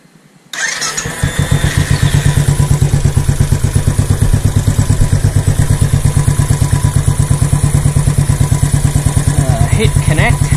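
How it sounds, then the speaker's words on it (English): A Royal Enfield Classic 500 motorcycle fires up after a brief quiet start, then settles into a loud, steady thumping single-cylinder idle that runs close and continuous. "start the bike."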